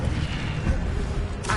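An Incendio fire spell cast in the Hogwarts Legacy video game, a dense, steady roaring rumble of flame that stays loud throughout, with a brighter hiss rising at the very end.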